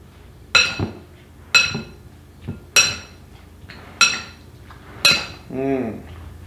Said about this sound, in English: Grab a spoon. Mix that up.